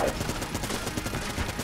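Rapid gunfire in the video game Enter the Gungeon, a dense, steady stream of quick shots and bullet impacts filling the whole stretch at moderate loudness, with no voices over it.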